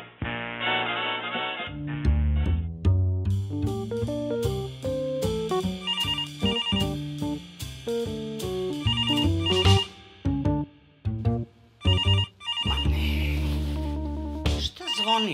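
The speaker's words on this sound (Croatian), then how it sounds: "Zvoni ovaj telefon" A telephone rings with a melodic electronic ringtone: a loud, continuous tune of stepped tones that plays for about fifteen seconds indoors, then breaks into short bursts near the end.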